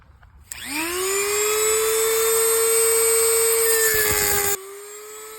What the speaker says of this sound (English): We're just cutting the brass bushing itself.